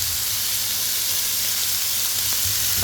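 Curry steam fish bubbles in a pot on the stove, a loud, steady sizzling hiss with faint low bubbling beneath, close by and without talk.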